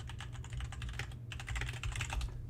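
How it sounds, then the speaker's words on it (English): Rapid, steady typing clatters on a computer keyboard, dense clicking keystrokes close up with a brief pause midway, over a low constant hum and no talk. "There's that ASMR typing for you."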